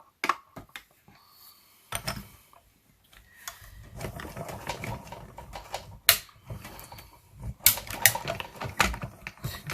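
A die cutting machine cuts paper for cards with irregular clicks, clacks and short mechanical rattles, close by and moderately loud, with gaps of quiet between bursts.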